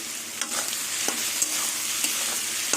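Onions frying in a pan for a Bengali chorchori, a steady close sizzle broken by a few light clinks and scrapes as a spatula stirs them; no voices.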